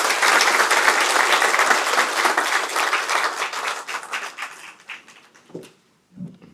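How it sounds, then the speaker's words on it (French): Audience applause at an event in Senegal welcoming the Prime Minister's message rolls in as dense, loud clapping, then thins to scattered claps and fades out, followed by a couple of faint low sounds. "sous vos applaudissements"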